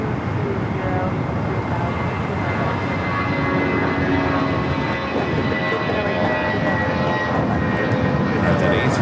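A jet airliner roars steadily at Los Angeles International Airport, a loud continuous broadband engine rumble that holds for the whole stretch, with voices talking over it.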